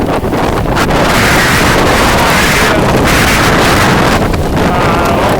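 Strong cold wind roars steadily against the microphone outdoors on a Sunday morning at the start area of the World's Toughest Mudder 2014 obstacle race, loud and continuous with gusty surges throughout.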